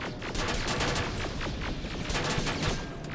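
Rapid automatic weapon fire from a plasma turret in the Terminator Resistance video game, a dense, continuous burst of loud shots rattling steadily for about three seconds with no talk over it.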